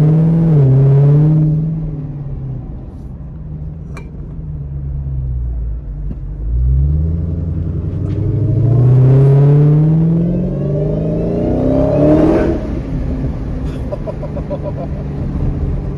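A Dodge Challenger Hellcat being driven, its supercharged engine rising and falling through the revs with a rumbling exhaust and a whining tone that climbs with each pull, loud and close from inside the car, with no talking.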